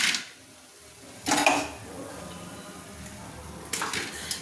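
Fried onion pakoras set down on a plate, with two short bursts of clinking crockery and utensil contact separated by a quiet pause.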